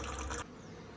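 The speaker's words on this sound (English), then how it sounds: "Lots of bees flying around, the displaced ones from yesterday." Bees hum and buzz in a dense swarm around a beehive being rescued from a condemned building, loud for a moment and then dropping to a softer drone of displaced bees flying about.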